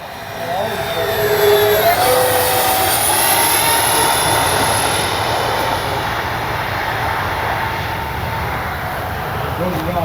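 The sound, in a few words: X-Fly F-15 40mm RC jet flying overhead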